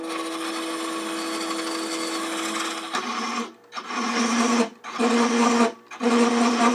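A wood lathe spinning while a beading and parting tool reduces a tenon, a steady whirring hum with a scraping cut that breaks into several short bursts separated by brief pauses.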